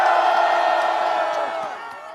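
Large outdoor crowd at a rally opposing impeachment, a sustained loud mass of shouting and cheering voices that fades slightly toward the end.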